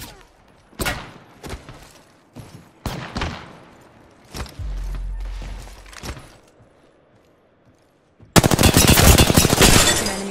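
Incoming gunfire striking the player in Apex Legends, several sharp bursts of shots with pauses between them, ending in a loud, dense barrage of rapid impacts.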